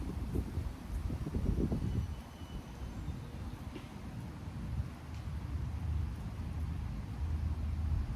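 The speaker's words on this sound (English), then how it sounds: "I visit you in this moment with a very strong wind blowing all around me" Strong wind blowing outdoors, a steady low broadband roar with gusty swells and buffeting against the microphone, continuous throughout with no voice.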